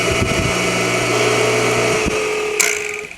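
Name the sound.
pool pump motor switched on and running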